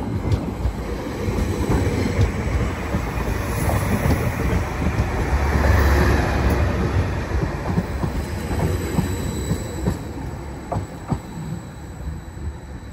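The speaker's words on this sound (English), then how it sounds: "terminating her way now with a lovely two-tone is a terminating Greater Anglia service from Lowestoft" A Greater Anglia Class 755 train arrives at Ipswich from Lowestoft with a rolling rumble of wheels and light squealing, plus wind buffeting the microphone; its two-tone horn does not stand out clearly.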